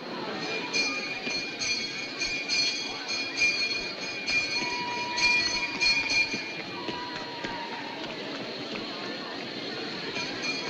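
Train at a station pulling away, a faint rumbling rail hum with light squeals and clatter under quiet voices in the background.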